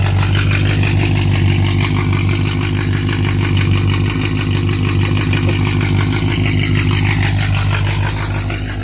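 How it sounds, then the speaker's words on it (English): A 1972 Chevy Nova with Violator exhaust runs steadily, heard from behind the car: a loud, deep, continuous exhaust rumble with a throbbing low pulse and slight rises in engine speed, close and without any talk. "And the pipes violator exhaust, that's what it sounds like from behind."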